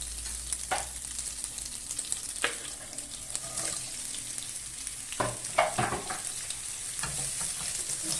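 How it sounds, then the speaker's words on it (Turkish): Onions stir-fry in a pan for chicken fajitas, a continuous low sizzle with occasional scrapes and light taps as they are turned, fairly quiet and without talk. "tavanın içerisinde e, önce soğanları bir iki tur çeviririm"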